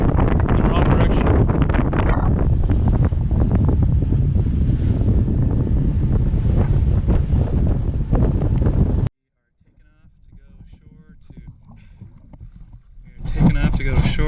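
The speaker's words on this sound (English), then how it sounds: "a lot of wind in the wrong direction" Strong coastal wind near a lighthouse and old guard tower buffets the microphone in a loud, constant roar for about nine seconds, then drops to a faint background before gusting up again at the end.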